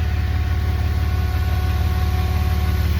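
A car engine idles beside a Griffin radiator with its electric cooling fan running, giving a loud, even, close-up drone with a low rhythmic pulse and a steady whirring hum.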